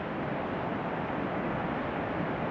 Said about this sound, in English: The main falls straight ahead.